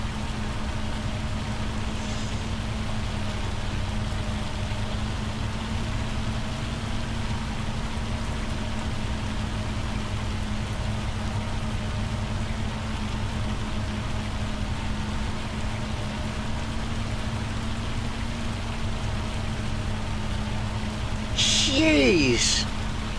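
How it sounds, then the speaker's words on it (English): Heavy rain pours steadily in Farming Simulator 25 on a Michigan farm, a constant dense hiss with a low engine-like drone beneath, and a brief chirping sound near the end. "My God, it's bucketing it down now."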